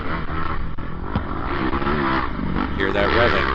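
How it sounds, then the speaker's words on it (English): Dirt bike engines rev and rumble at a hare scramble race, a continuous mid-distance motor drone rising and falling beneath a man's close, constant talking. "Hear that revving."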